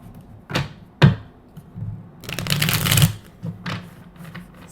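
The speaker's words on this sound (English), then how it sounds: "I'm going to give one good shuffle." Tarot cards are shuffled by hand in several quick riffling bursts with soft taps and thumps between them, close and crisp with no talking.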